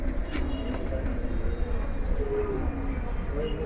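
Pigeons coo softly amid a low outdoor rumble at a Tongi Peoples Pigeons Club tournament, the murmuring calls recurring at a moderate distance against steady background noise.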